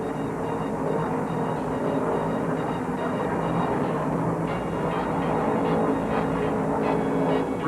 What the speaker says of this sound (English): The green flag flaps and they explode down the straight.